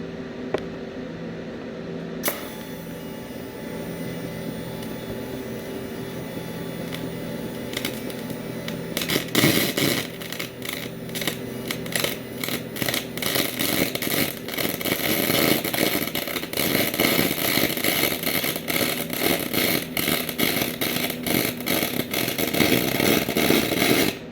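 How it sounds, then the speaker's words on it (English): A pulse TIG welder runs a fillet weld on 385 bronze, giving a steady electrical hum that turns into a rapid, even pulsing buzz partway through and continues with no talking. "Now with pulse, I'm going to run a fillet weld."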